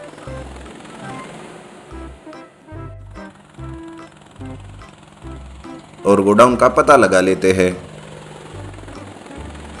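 A helicopter made from a giant onion flies in an animated Hindi children's story, its rotor drone running under steady narration, with a louder burst of sound near the end.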